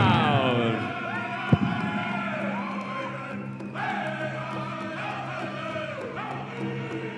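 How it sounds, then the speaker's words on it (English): Crowd cheering and whooping at a powwow dance championship in a resort and casino venue, a steady roar with one sharp thump near the start and loose voices calling out over the din. "Let's hear your crowd!"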